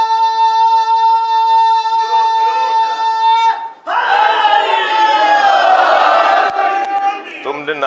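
A large gathering at a religious sermon erupts in a loud chanted slogan after a sustained tonal voice, many voices shouting together near and forcefully for several seconds before fading.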